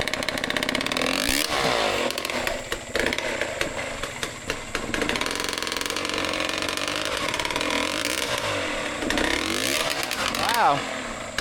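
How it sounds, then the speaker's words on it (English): A dirt bike engine held at low revs while the bike crawls over wet rocks, a steady loud buzzing drone throughout with small throttle swells, heard up close alongside talk. "holding low revs is helping Costa hold traction where there is none."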